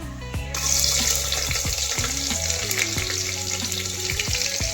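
Sliced onion dropped into hot oil in a pan for chicken pulao, bursting into a loud close sizzle that continues steadily with stirring scrapes.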